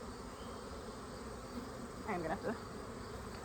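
Honeybees swarm around an open hive during a late-summer inspection, a steady close buzzing drone that never lets up, while a brief spoken remark rises over the hum.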